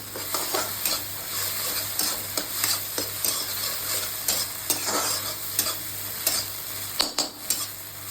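Ingredients for restaurant-style egg fried rice fry in a pan with a steady sizzle, punctuated by regular scraping stirs and tossing strokes of a spatula, close and clear with no voices.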